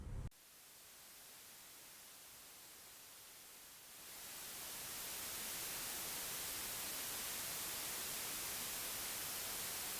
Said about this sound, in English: So here we have white noise,